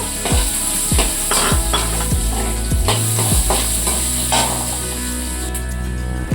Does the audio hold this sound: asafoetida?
yes